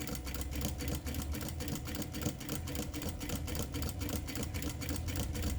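A sewing machine stitches a child's dress, including a backstitch, in a rapid, steady, close mechanical chatter of needle strokes, fairly quiet and without speech.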